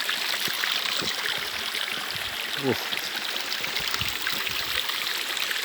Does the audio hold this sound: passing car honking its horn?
no